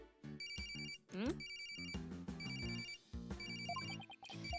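A telephone rings in the video game Ace Attorney Spirit of Justice, a bright, repeating electronic ringtone melody with a short rising chime, heard clearly and alone.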